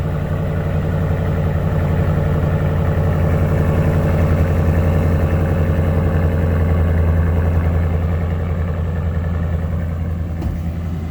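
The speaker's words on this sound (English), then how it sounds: "This is what the Corsa exhaust sounds like." A 2021 Toyota Sequoia Nightshade with a Corsa catback touring exhaust and S&B cold air intake idles on a cold start, a loud, deep, steady rumble with a fast even pulse throughout, close by and without talk.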